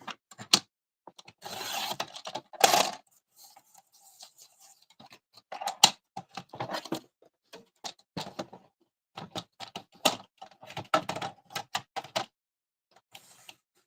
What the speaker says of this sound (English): This is the 2-inch piece of poster board. So I'll cut it down to 1 inch.